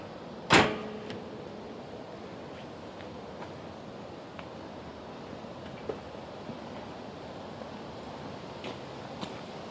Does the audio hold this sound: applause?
no